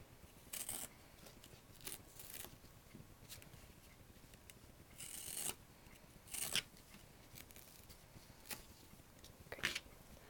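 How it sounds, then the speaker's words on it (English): Scissors snipping through the edge of a sponge for a wetlands model, a series of short, quiet, irregular cuts with pauses between them, close and faint. "I'm just going to cut the edge off of this one."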